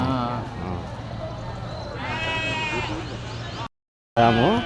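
Sheep bleat nearby at a sheep and goat market in Kadiri, several drawn-out wavering calls over a steady background while people talk, with a brief cut to silence near the end.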